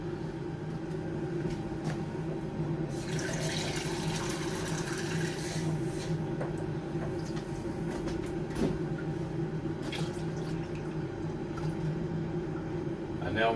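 Water pours from a pint glass into a container while brining venison in a home kitchen, a brief splashing rush in the middle over a steady low background hum.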